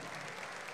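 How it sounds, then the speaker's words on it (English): Audience applause at an amateur MMA event after a bout between two teenage fighters, a steady dense wash of clapping throughout the brief moment with no voices over it. "let's give a huge round of applause for these two great athletes who showed so much skill and they're still teenagers"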